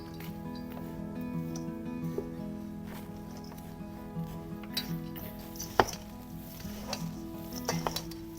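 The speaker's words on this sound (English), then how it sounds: "I'm gonna be using 1 strong spoon to stir this" A strong spoon stirs a dry granola mixture in a bowl, giving soft, uneven scrapes and occasional clinks over a steady tonal background, with one sharper knock near the end.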